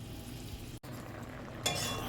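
A spoon scrapes and stirs peanuts cooking with sugar in a pot on the stove for a Jamaican sweet, a faint soft sizzle under brief stirring sounds, with a short gap and a brighter scrape near the end.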